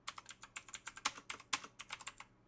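Rapid typing on a computer keyboard, a steady run of close, crisp key clicks with a few harder strokes, heard alone without speech.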